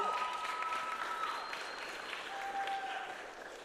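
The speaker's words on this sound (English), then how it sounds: "You guys can clap for her" An audience at a music recital night applauds after a performance, a steady, moderately distant round of clapping with faint voices calling out above it.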